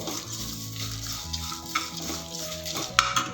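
A spatula stirs curry leaf rice with dried red chillies and jaggery in a frying pan, giving soft scraping and light frying sizzle, then a couple of sharp metallic clinks near the end, with no talking.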